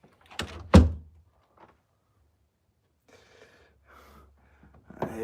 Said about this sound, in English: I shut this door.